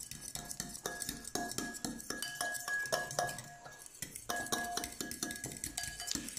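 Cucumber tagliatelle tossed with olive oil in a bowl, with rapid repeated clinks and scrapes of utensils against the bowl at close range and a brief pause midway.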